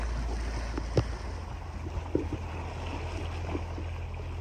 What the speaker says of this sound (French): Moteur, moteur, moteur.